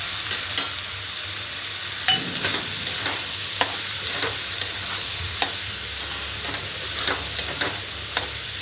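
Red chilli powder, turmeric and salt stirred into pasta frying in a pan, with a steady sizzle under repeated sharp spoon clicks and scrapes against the pan, no voices.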